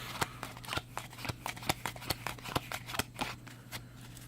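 Theory11 NoMad playing cards being handled and sorted into new deck order, a steady run of crisp, close card snaps and flicks at a quick, fairly even rhythm, with a low hum beneath.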